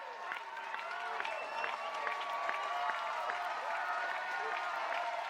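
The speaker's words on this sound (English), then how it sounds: "this crowd will get loud" A large crowd at a Florida versus Ole Miss college softball game roars and cheers continuously, with scattered claps and shouts rising over a steady wall of noise.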